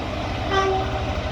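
A GBRf Class 66 diesel locomotive hauling a freight train from Eastleigh Yard sounds a short two-tone horn at Raynes Park on the South West Main Line, brief and fairly loud over the steady rumble of the passing train.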